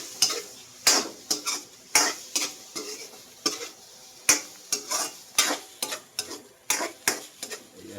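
Bangus sisig with oyster sauce is stirred in a pan, with a utensil clacking and scraping against the metal in a loose, repeated rhythm over a soft, continuous sizzle.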